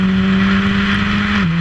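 Formula Ford race car at Knockhill revving loudly and steadily from onboard, the engine note holding then dropping briefly as it shifts from second to third gear.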